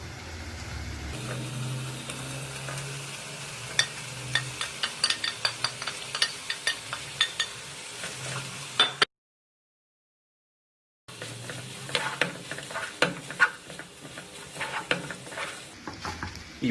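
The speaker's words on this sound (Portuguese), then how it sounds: "Cebola cortada em cubinhos individuais, mexe levemente" Diced onion stirred with meat for Paraíba rubacão in a pan, sizzling steadily while a spoon scrapes and taps the metal in irregular bursts, close and clear, with a brief silent gap midway.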